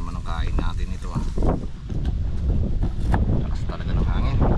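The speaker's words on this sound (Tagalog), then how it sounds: "Lakas talaga ng hangin." Strong gusty wind buffets the microphone with a constant low rumble, and faint voices can be heard beneath it.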